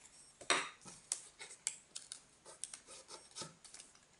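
Origami paper flaps are folded and creased while making an owl envelope, giving close, soft crinkles and sharp rustling snaps in an irregular series, crisp and quiet with no talking.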